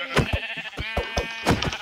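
Sheep bleating in the Minecraft video game, several short wavering bleats in quick succession, close and clear with no talk over them.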